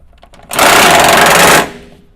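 A power tool tightens bumper mount bolts on a 2017-2022 Ford F-250/F-350 rear bumper, giving a single loud, close burst of about a second that starts and stops abruptly.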